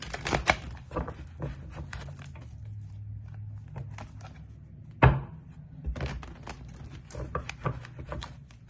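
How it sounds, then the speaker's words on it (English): Tarot cards being shuffled by hand, a series of soft close riffles and papery rubs with a sharper knock near the middle. The sounds are fairly quiet and irregular, with no talking. "I'm going to do 3 more shuffles."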